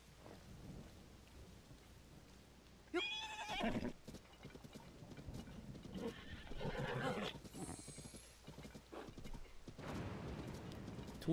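A horse in Zelda: Tears of the Kingdom whinnies and its hooves clip-clop in rhythm, with rolling thunder and rain behind, and a second neigh follows later.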